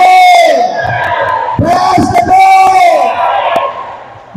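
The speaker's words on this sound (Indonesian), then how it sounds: "Kita berikan tepuk tangan yang meriah." At a formal ceremony in Batam, a large crowd bursts into loud cheering and yelling, with a sustained voiced shout over the roar, and a voice rings out above the noise.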